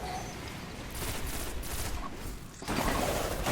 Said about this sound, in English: I'm using a pulse rifle here.